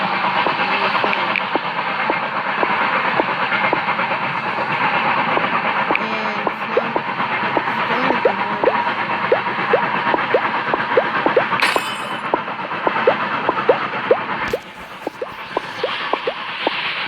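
Mining train in a mobile game rolls along with a steady rumble and a fast, regular clickety-clack of wheel beats, loud and continuous with no talking.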